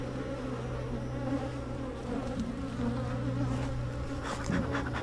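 Agitated honey bees swarm close to the microphone, their dense buzzing a steady, loud drone that holds without a break throughout.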